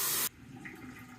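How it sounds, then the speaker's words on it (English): A razor is rinsed under running water into a bathroom basin: a brief loud rush of water cuts off abruptly, leaving a faint wet, dripping room sound. "Excuse me while I rinse the razor."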